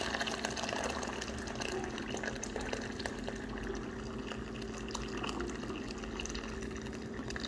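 Freshly boiled water is poured over dried beans in a bowl to soak, a continuous close splashing and trickling pour that keeps an even level throughout.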